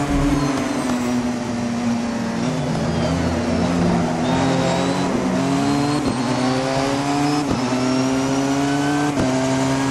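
In the Assetto Corsa racing game, a 2015 Porsche 919 Hybrid race car screams along Silverstone 1967 with a loud, continuous high-revving engine whine, rising and dropping sharply through repeated gear shifts and lifts, close and steady for ten seconds.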